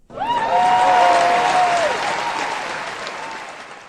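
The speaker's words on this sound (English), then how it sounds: "Everyone give a round of applause for Ryan" A crowd at an arcade event bursts into loud applause with a brief whoop at the start, the clapping holding strong before gradually fading.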